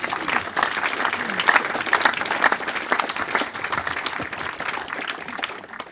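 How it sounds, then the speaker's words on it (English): Warm, sustained applause from a crowd of friends gathered at a memorial celebration, dense steady clapping throughout at moderate distance, with faint voices mixed underneath. "A round of applause for everybody,"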